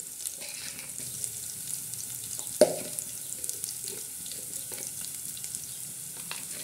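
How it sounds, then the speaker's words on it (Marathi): Garlic and cumin tempering in hot oil for a spicy brinjal-potato fry, a quiet continuous sizzle with one sharp clink of a utensil against the pan and a few small scrapes. "तर आता मस्तपैकी लसणाचा तडका देणार आहोत"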